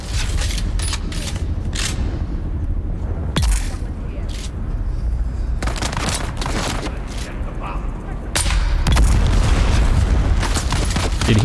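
Explosions in the video game Dune: Awakening: deep booming blasts burst out around the three- and eight-second marks, the second one loud and sustained, over a dense, rumbling bed of constant game noise.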